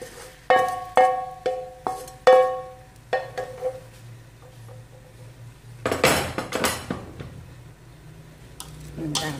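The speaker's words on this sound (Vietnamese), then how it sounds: "Rồi bây giờ mình sẽ cho cái phần ốc vào." Snails tumble into a metal pan during Vietnamese home cooking of snails with banana and tofu, giving a run of sharp, clattering clinks that fade, then a louder burst of rattling as they are stirred.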